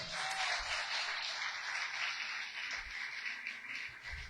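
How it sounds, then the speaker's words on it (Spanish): A church congregation applauds in praise of the Lord, a sustained, even roar of many hands clapping together that fills the room at moderate loudness. "¿Cuánto le dan un aplauso al Señor?"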